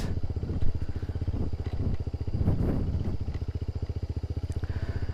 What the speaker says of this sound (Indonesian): Dan ini motor saya mentul-mentul guys.